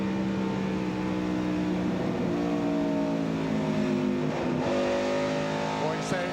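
Engines of NASCAR Winston Cup stock cars drone and rise in pitch as they accelerate during a 1998 race at Texas, under continuous commentary.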